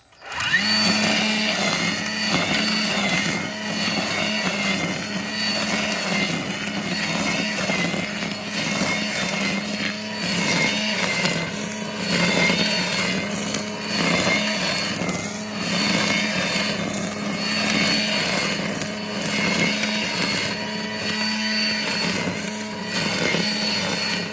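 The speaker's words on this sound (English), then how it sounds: "We're gonna see how much the Toro cuts in 30 seconds." Toro Revolution battery-powered string trimmer running steadily near and loud for the whole stretch, a constant high whirring buzz with slight surges as it cuts, no talking.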